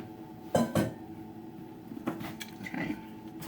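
A utensil stirs homemade cranberry sauce in an old cast iron pot, making a few distinct close scrapes and knocks against the metal with quiet pauses between them.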